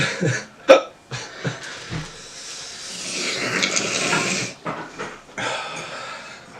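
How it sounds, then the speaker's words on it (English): Several sharp hiccups burst out at irregular intervals after eating very spicy candy, separated by heavy breathing and a long rough exhale, close to the microphone. "let these hiccups subside"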